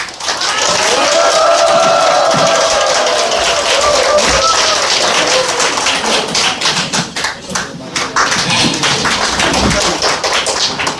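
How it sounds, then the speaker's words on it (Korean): A crowd applauds and cheers warmly at an outdoor political rally as the Liberty Unification Party leader and Gangseo district mayoral candidate come out, loud dense clapping that swells then thins, with voices and shouts mixed in. "여러분들 우리 당대표 고영일 변호사 그리고 강서구청장 후보 나오실 때 힘찬 박수로 환영해 주시기 바랍니다"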